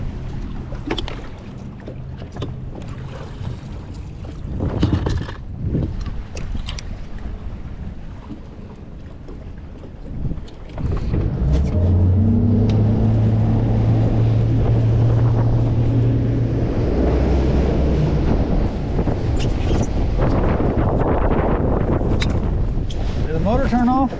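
Strong wind roars across a fishing boat on open water, a loud steady buffeting rush with water noise beneath it and people talking at times.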